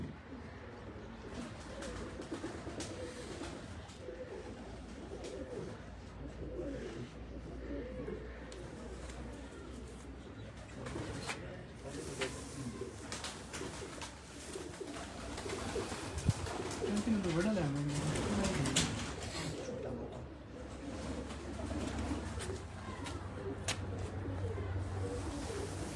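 Low coos from champion racing pigeons murmur in the background while people talk quietly over a steady hum for the whole stretch.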